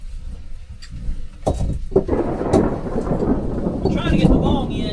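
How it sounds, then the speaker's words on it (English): A thunderstorm rumbles over pouring rain outdoors during cave digging in Alabama. Sharp thunder cracks and deep rolling booms sit over a steady wash of heavy rain, close and loud, with no speech. "Yeah, it's quite stormy out."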